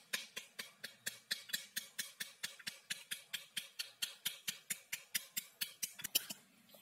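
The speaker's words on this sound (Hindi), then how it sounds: "अब हम इसे पलट के इसे टैप करेंगे किसी स्पैटुला से या चम्मच की मदद से" An upturned pomegranate half is tapped with a spatula or spoon to knock out the seeds. Roughly two dozen crisp, evenly spaced taps come at a brisk, steady rhythm, close and alone, ending with one slightly heavier knock.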